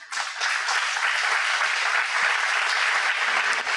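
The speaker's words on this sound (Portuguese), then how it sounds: "Vamos aplaudir Jesus bem forte." A church congregation claps together in loud, sustained applause that swells quickly and holds steady, a dense wash of many hands with no voices standing out.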